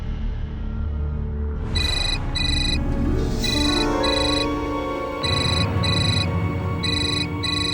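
A phone ringing indoors in a Hindi crime drama scene, a repeated electronic ringtone in short regular bursts over a dull low background hum, fairly loud and with no speech.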